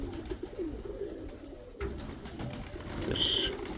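A pigeon coos in soft low repeated calls close by, with brief rustling and a sharp clatter partway through.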